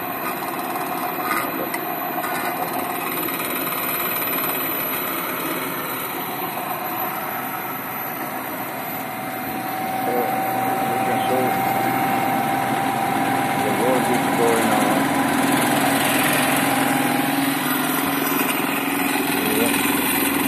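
A small generator engine runs loud and close at full RPM, a steady buzzing drone with vibration that climbs slightly halfway through and holds for about twenty seconds.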